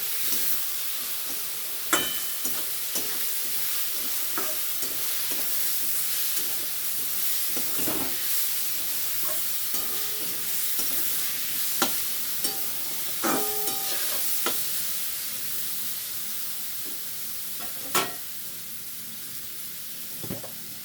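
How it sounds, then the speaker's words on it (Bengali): Vegetables sizzle steadily in a hot pan while being sautéed for a mochar ghonto, with a constant frying hiss broken by occasional scrapes and knocks of a spatula stirring the mix, all close and with no talk. "ভালো করে কষিয়ে নেবো।"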